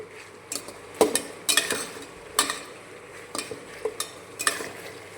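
Sautéing aromatics for Tamil vathal kuzhambu sizzles quietly in a pan, broken by a series of sharp spoon scrapes and clinks at an irregular pace, with no talking.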